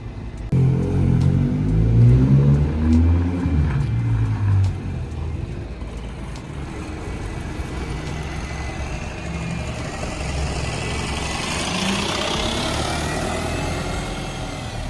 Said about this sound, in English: this bus that's leaving now is meant to be a 209, but because driver's late, skipped the trip and it's now a 378